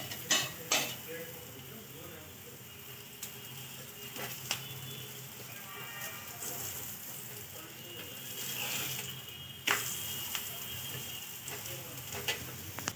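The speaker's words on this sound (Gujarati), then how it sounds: "તમે જોઈ શકો છો આપણે આવી રીતના થેપલાને તેલ લગાવીને પછી ફેરવવાનું" Methi thepla flatbread sizzles steadily in oil on a pan over low heat, with a few sharp clinks and scrapes as it is oiled and flipped, no talking over the frying.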